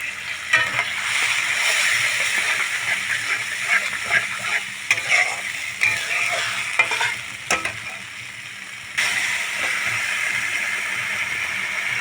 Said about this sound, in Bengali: টমেটো ও কাজুটা কষানো হতে হতে দিয়ে দেবো আদা, জিরে, কাঁচা লঙ্কা বাটা।